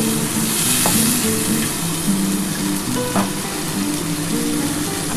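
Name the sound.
spice paste frying in a pan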